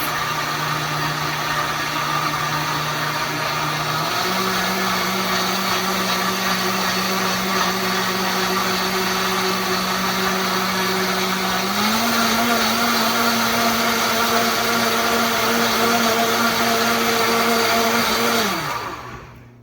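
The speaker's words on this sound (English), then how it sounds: "the blend speed because I like mine more like frothy type." Blender whirring loudly as it froths bulletproof keto coffee, a steady close motor drone that steps up in pitch twice as the speed is raised, then winds down and stops near the end.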